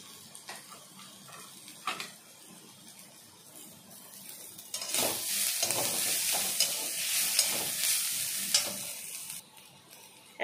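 Onion and ginger fry in a pan. A soft sizzle runs under the intermittent scrape of a spoon stirring, and the sizzle grows louder and steadier partway through.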